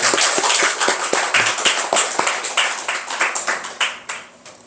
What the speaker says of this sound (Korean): 우리 부모님들 박수 한번 해주시기 바랍니다